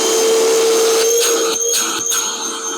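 A Milwaukee toolbox-style wet and dry vacuum runs with a loud, steady motor whine and rushing airflow, close by and uninterrupted, with slight dips in pitch near the end.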